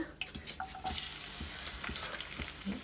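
Onions go into hot oil and fry with a soft, crackling sizzle, fairly quiet, with a few sharp pops and stirring clicks along the way.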